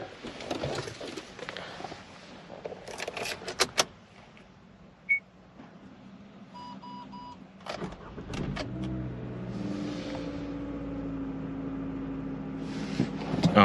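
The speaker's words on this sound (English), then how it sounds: "I'm going to give the vehicle a start up" A car engine cranks and starts after a battery change, following a few quiet clicks and clunks. It catches with a burst, then settles into a steady close idle hum.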